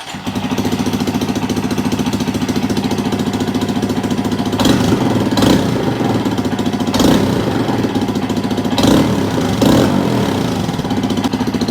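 A Honda Monkey motorbike engine starts for the first time and settles into a steady, loud idle, with a few brief throttle blips over the constant putter.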